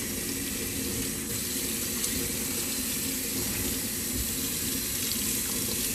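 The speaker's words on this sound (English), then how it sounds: "So now let's give it another rinse." Tap water running steadily into a sink while rinsing parts of a Shark Navigator NV22L vacuum cleaner, a constant close splashing flow with no speech.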